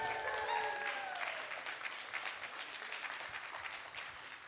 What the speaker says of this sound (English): A big round of applause for Tom.